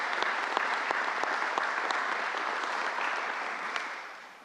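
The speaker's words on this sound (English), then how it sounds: "Let's give them a big round of applause and thank them." Dense, steady applause from an audience at a government announcement in the Bronx, with a few sharper individual claps standing out near the front, sustained throughout without speech.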